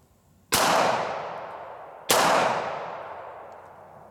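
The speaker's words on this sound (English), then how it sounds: "All right, 5 shots are over." Two loud, sharp pistol shots from a 10mm Auto or .40 S&W handgun firing 180 gr FMJ rounds at a range, spaced about a second and a half apart, each with a long decaying echo.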